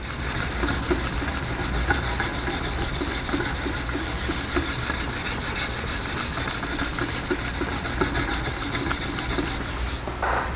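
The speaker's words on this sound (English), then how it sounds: "Again, scrubbing is just up and down strokes." Steady up-and-down scrubbing strokes of a Jende Reed knife on Wicked Edge sharpening stones, a continuous close rasping rub with a fast, even rhythm and no talking.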